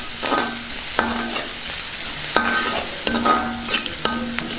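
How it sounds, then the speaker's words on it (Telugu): Spatula stirring through onions frying in a pan with turmeric added, for a spinach tomato curry: close, repeated scraping strokes at a steady rhythm over a continuous oil sizzle, no voices. "ఇందులో కొద్దిగా పసుపు వేసుకుందాం ఒకసారి బాగా కలుపుకుందాం"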